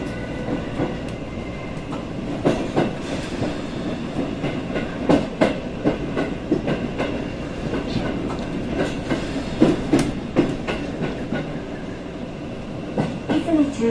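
A Sendai Subway Namboku Line train rumbles along between Yaotome and Izumi-Chuo, with steady clattering of wheels on rails, occasional sharper clanks and squeaks over a constant low hum.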